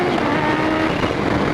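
Kawasaki Ninja H2 motorcycle engine roaring continuously while ridden in second and third gear in Ohio, a loud, close, sustained growl with steady wind rush and no pauses.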